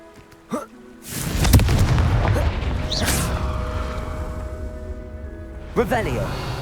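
A Confringo blasting curse explodes in Hogwarts Legacy with a sudden loud boom that rolls into a sustained crackling rumble for several seconds, followed by a smaller burst near the end; a voice calls out spells.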